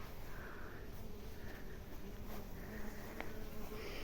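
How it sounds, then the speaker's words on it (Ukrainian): A bee buzzes faintly around white lilac bushes in a garden, a thin, steady insect drone with soft rises as it moves, heard alone outdoors. "Бджолан сидить, медок збирає."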